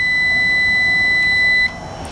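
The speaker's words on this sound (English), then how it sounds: "the continuity meter, giving you an audible beep instead of only showing it on the screen" A multimeter's continuity tester gives one loud, steady high-pitched beep held for about a second and a half before cutting off abruptly, leaving a faint room hum.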